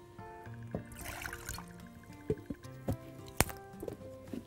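Water is poured into a glass for a homemade mouth freshener, a brief trickling splash followed by a few light clinks and taps of glass and utensils in a quiet kitchen.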